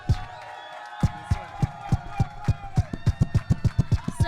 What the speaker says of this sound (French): Je vais vous demander un tonnerre d'applaudissements.